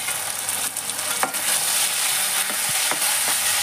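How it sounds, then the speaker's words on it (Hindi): Chopped tomatoes going into frying kanda bhaji, a Chhattisgarh leafy-greens dish, giving a steady close sizzle with a few soft stirring scrapes and clicks from the pan, no voices. "अब इसमें हम डालेंगे चॉप करे हुए टमाटर"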